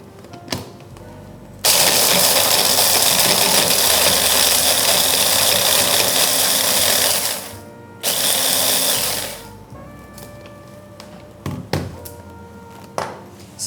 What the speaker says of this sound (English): So that is 50 grams of our biscuit that we are going to now blitz up.